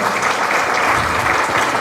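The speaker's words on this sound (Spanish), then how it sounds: "Un aplauso más fuerte," Audience applause at an international pulmonary hypertension symposium, a dense, steady wash of many hands clapping together, loud and sustained throughout without breaks.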